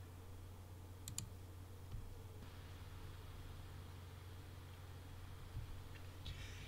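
Mouse clicks on a link in a web browser, a quick pair of small, close clicks early on and then another faint click, over steady low hum with no talking.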